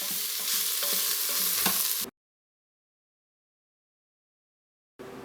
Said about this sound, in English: we're going to add the garlic. This is 8 garlic cloves. And we'll be sauteing that for about 2 minutes.